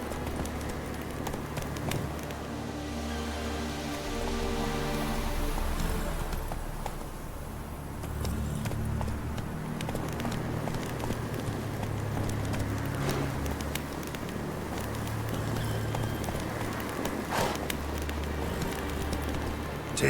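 Hooves of Roach, a horse in the video game The Witcher 3, clip-clop at a steady gallop over a continuous outdoor ambience and music bed, the rhythmic beats persisting for the whole stretch.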